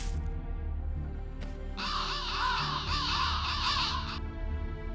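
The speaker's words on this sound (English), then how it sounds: "I've never seen so many crows in one place." Crows cawing in the video game Fate/Grand Order, a loud, dense flock of harsh repeated caws lasting several seconds over a steady low background score.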